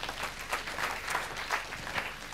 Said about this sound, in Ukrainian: Ваши аплодисменты и поехали.